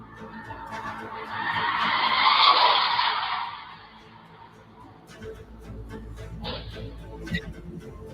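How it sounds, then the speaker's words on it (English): A car's tires screech at length on playback, a loud, sustained skid that fades into quiet, followed by faint scattered knocks and a small pop near the end. "It screeches for a while. It gets quiet, and then it's like pop at the very end."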